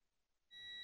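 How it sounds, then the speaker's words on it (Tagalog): A multimeter in continuity mode starts a steady high-pitched tone partway through. The tone is sudden and sustained, and comes during testing of a 24-volt EASUN hybrid inverter's outlet wiring. "Tumunog yung ating multimeter"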